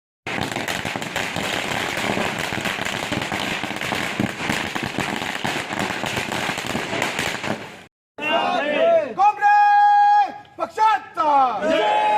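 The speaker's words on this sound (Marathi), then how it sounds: "कार्यकर्त्यांनी फटाक्यांची आतषबाजी करून आनंदोत्सव साजरा केला" A dense barrage of firecrackers bursting continuously for several seconds at a political celebration in Solapur, then the crackling stops and a crowd cheers and shouts loudly.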